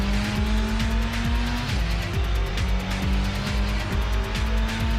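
A race car drifts in the video game Gran Turismo, its engine droning loud and steady with gear-shift steps. A continuous tire squeal runs over the engine as the car slides through a corner.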